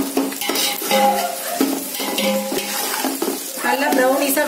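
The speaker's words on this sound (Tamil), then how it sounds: "வெங்காயம் நல்லா வணங்கணும்" Onions sautéed and stirred in a pot for chicken dum biryani, a busy run of metal spoon scrapes and clinks over a light sizzle, close and fairly loud throughout, with no speech.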